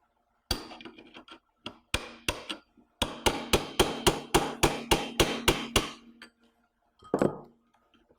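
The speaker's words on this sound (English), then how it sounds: "This is easiest done with a hammer and a chisel." Hammer striking a chisel to knock loose the keeper nut on a golf cart clutch (E-Z-Go Valor EX1 clutch kit install): a few scattered metallic blows, then a rapid steady run of about a dozen sharp strikes, and one final knock, up close.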